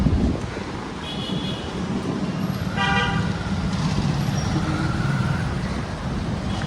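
Road traffic rumbles steadily under gusty wind noise while car horns toot a couple of times, one short honk followed by a longer, louder blast.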